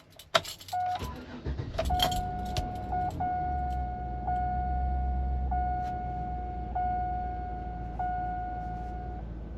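Keys jingle and a Chevrolet Tahoe SUV engine cranks and catches, then settles into a steady low idle with a faint repeating chime ringing over it.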